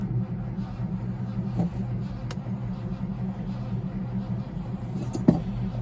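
A car engine cranks without catching despite having oil and fuel, a steady, close starter drone that runs unbroken for several seconds and ends with a brief metallic clack.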